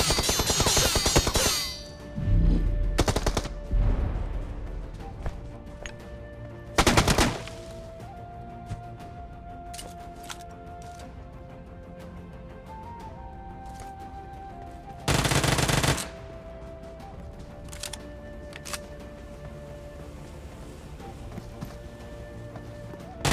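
Gunfire in a solo battle royale shooter as an M4 rifle finishes off a shotgun-wielding opponent: rapid automatic bursts early, then a single sharp burst and a later loud volley over quiet game ambience.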